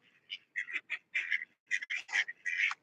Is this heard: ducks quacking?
yes